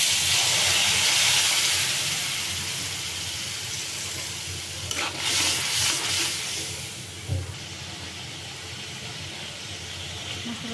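Hornfish sautés in a pan with potato and sponge gourd, giving a continuous steady sizzle and hiss, with a brief stir or clatter midway.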